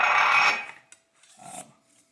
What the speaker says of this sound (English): you can just use the bottom of a coffee cup to hone your knife